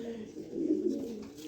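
A pair of top-quality pigeons, a male and a female, coo in low steady murmurs, close by and moderately loud, with a faint voice in the background.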